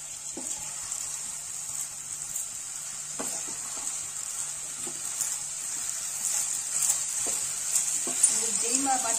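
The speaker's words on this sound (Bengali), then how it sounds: "চালটা মেশানোর পর আবার ভালো করে একটু নাড়িয়ে নেব।" Rice being stirred as it fries in a pan over medium-high heat, with a constant bright sizzle and occasional scraping strokes of the spoon repeating every second or two, close and clear.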